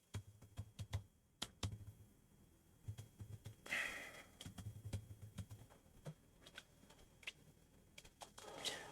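Typing on a computer keyboard in a quiet room, with a series of soft, irregular key clicks and taps close by and a brief breathy sigh partway through.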